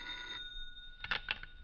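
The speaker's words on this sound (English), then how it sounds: "It was nearly a week later that I received a phone call in my quarters at the rectory." A telephone bell rings in a radio drama, heard as two short bursts of ringing near the end after a quieter stretch.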